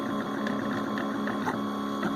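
A newly built 3D printer starts its first print, its stepper motors humming steadily with a tonal whine and faint rhythmic ticks of movement, close and continuous.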